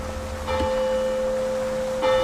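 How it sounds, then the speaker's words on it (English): A bell at Waiapu Cathedral in Napier tolls with a steady, ringing hum, one strike near the start and another near the end, resonant and fairly close. "As the bells ring 96 times at the Waiapu Cathedral in Napier"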